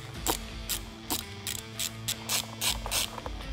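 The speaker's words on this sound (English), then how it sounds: "let's remove the 10mm bolt holding the front bracket of the airbox on" A socket wrench ratchets on a 10mm bolt holding the front airbox bracket of a Kawasaki ZX6R motorcycle, with about ten quick clicking strokes in an even rhythm, close and clear.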